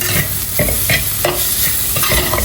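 Onions frying in a pan with a loud, steady sizzle, and a spoon scraping through them in repeated stirring strokes close up, with no voices.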